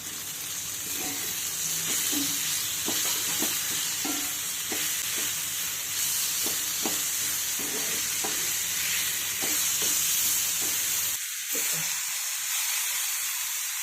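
Ghevda beans being stirred and fried in a pan, with a steady sizzle and repeated scrape-and-clack strokes of the spoon through the mixture, close and fairly loud. The frying cuts off near the end.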